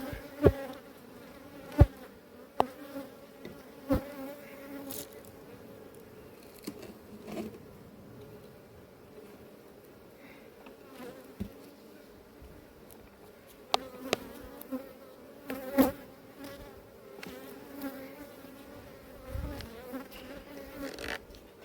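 Honeybees hum steadily around an apiary hive, a low continuous drone with a few sharp knocks and taps rising over it, fairly quiet and with no talking.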